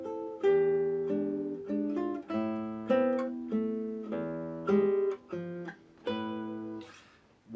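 A classical guitar plays the opening of Roland Dyens' Valse en Skai, plucked notes and chords in a lilting waltz phrase, fairly quiet and close, heard alone without speech.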